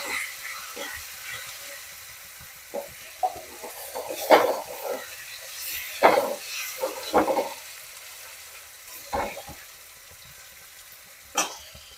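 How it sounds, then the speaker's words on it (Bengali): Garlic fries in a pan as a faint sizzle beneath sharp clinks and scrapes of a utensil against the cookware, with scattered knocks and stirring sounds spread across the stretch. "রসুনটা আলাদা করে ভেজে নিলে একটু ভালো টেস্ট হয়"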